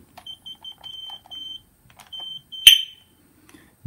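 A series of short high-pitched electronic beeps in quick succession from a security alarm system being armed and disarmed, followed by a sharp click, then a low sound at the end.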